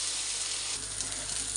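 Three pieces of rohu fish fry in hot oil, a soft, even, continuous sizzle heard close up on its own for a brief moment.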